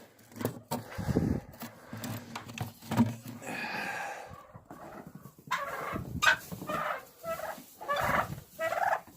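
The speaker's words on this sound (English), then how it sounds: "There's the turkeys in their pen in there." Turkeys gobble repeatedly in bursts at moderate distance from their pen on a farm, with other farmyard noises and rustling in between.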